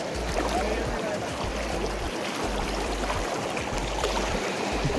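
Water rushing steadily over a waterfall into a forest stream, a dense continuous roar that stays close and loud throughout, with no pauses.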